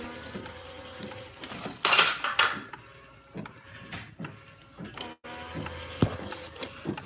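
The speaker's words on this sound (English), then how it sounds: "the printer is laying our white layer." A direct-to-garment printer lays a white ink layer onto a t-shirt, making uneven mechanical clicks, whirs and clunks as the print head shuttles. The sound is near and moderately loud, with one louder burst early on and no talk.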